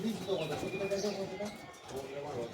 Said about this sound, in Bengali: এটা জালদার পায়রা আছে